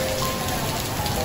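Rain falls steadily at night outside a college, a dense even hiss of drops hitting surfaces with no pauses and no voices.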